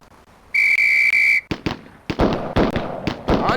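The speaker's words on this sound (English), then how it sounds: "On the single whistle." A single long steady whistle blast during a police academy shooting drill in the Police Quest SWAT video game, followed by a rapid series of sharp gunshots.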